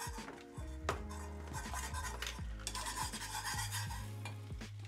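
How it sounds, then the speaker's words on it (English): A whisk scrapes and clinks rhythmically against a pot as butter is worked into kaya caramel, a steady run of quick metallic strokes with faint sizzling beneath, quiet and close. "Now you can whisk in your butter."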